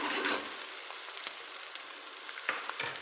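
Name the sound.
onions frying in a pan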